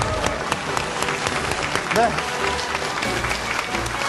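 Applause for a school principal rises under a brief spoken word, a steady wash of crowd clapping mixed with room noise, moderately loud and continuous across the few seconds.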